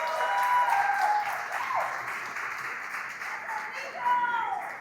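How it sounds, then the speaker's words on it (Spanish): A studio audience applauds a guest, steady dense clapping filling the whole stretch, with a swell at the end. "Otro aplauso para él, por favor."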